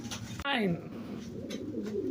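Pigeons kept for sale at a hundred taka apiece coo in short soft bursts close by, with a brief chirping call and a voice speaking over the birds.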